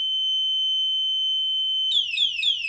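A solar-powered electronic bicycle horn holds a steady beep tone for nearly two seconds, then switches to a fast, rising-and-falling police-siren-like warble, loud and close, with no talking.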